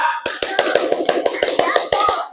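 A classroom group of children claps for a presenting group, a short run of sharp, evenly spaced claps, close and fairly loud, ending after about two seconds.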